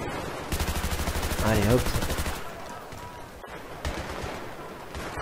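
Rapid automatic gunfire in the Battlefield 3 video game, a loud sustained burst with someone talking over it, then quieter scattered shots further off.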